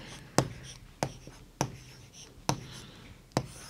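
Chalk or pen writing on a board during a Class 3 maths lesson on time, with five crisp taps and scratches spaced about a second apart, close and distinct over a quiet room.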